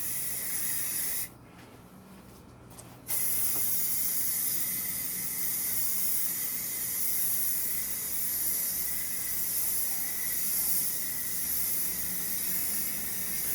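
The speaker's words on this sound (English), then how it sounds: "Make sure I get a good thick coat of blue paint on here." Blue paint sprayed from a can onto a doghouse being restored, a steady close hiss that stops briefly near the start and then runs on unbroken.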